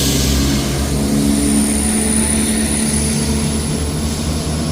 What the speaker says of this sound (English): departing out now is a 1220 Scotrail service from Edinburgh Waverley to